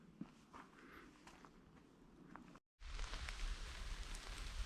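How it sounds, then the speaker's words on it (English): Rain falls in woodland at night, heard as a dense, steady patter that grows louder after a brief cut, with no talking. "The rain's coming down now, so it's time to retreat into the tent."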